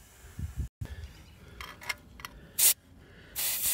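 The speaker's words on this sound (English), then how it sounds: "I'm adding some air now." An air compressor inflates a tire on a Nissan NV Passenger HD 3500 van. Quiet handling knocks and taps give way to short, sharp bursts of hissing air, the last one loud and sustained to the end.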